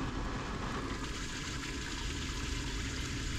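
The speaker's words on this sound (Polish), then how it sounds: "tu nam się prysznic leje do baseniku, woda" A portable camper shower runs into a small basin, giving a steady, dense rush of falling water that stays constant and fairly loud throughout with no talking.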